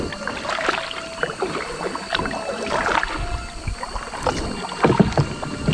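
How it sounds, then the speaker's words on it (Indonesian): A paddle dips and pulls through the water as a boat moves along a river in Kalimantan, with repeated splashing strokes, gurgling water and wind noise against the microphone, close and fairly steady. "Oke, aku lanjut dayung dulu."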